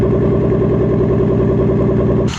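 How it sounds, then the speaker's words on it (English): A turbocharged BMW M52 inline-six running on E85 idles very low on a cold start at about 38 degrees, with a steady loping rumble and a slight clatter, close and loud, with no talking. "idling stupid low, like 500 RPMs on cold start here on E85"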